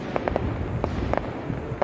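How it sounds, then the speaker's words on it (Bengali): Fireworks bursting at a celebration at the Barishal coal-fired power plant, a string of sharp cracks and pops spaced irregularly at a distance over a steady low rumble. "এরা এখানে আনন্দ উৎসব করতেছে, আতশবাজি হচ্ছে"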